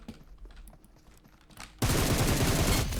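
Video game gunfire: a sudden, loud sustained burst of rapid automatic shots erupts midway and continues to the end, following a stretch of quieter clicking and background noise.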